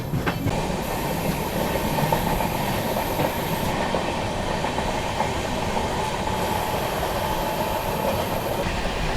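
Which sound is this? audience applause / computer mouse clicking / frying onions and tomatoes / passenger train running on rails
passenger train running on rails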